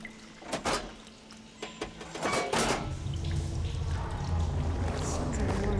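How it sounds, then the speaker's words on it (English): Water in the Horizon Forbidden West video game: a few splashy bursts, then a steady, loud rushing flow of water that keeps running to the end. "Sounds like the water's switched."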